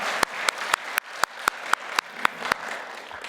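A church congregation at a Sunday service claps in praise, heard as a steady series of about a dozen evenly spaced sharp claps in unison, close and fairly loud, with no talking.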